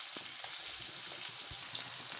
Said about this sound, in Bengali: আমার প্রথম ব্যাচটা ভাজা হয়ে গেছে, আমি এখন সুন্দর মতো উঠিয়ে নেব।